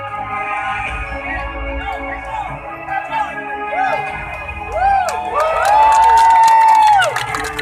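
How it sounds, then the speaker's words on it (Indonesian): Audience at an outdoor Tagana disaster-response simulation in Aceh cheering and clapping, a steady crowd roar with whoops and shouts that swells louder toward the end, a few voices standing out. "Sekali lagi tepuk tangan buat Tagana Provinsi Aceh."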